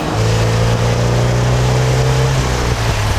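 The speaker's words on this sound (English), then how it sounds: "let's hear what this car sounds like in this generation according to the press footage" Engine and exhaust of a 2022 Volkswagen GTI, a steady mid-pitched drone with a strong low hum throughout and no talk, the tone shifting slightly near the end.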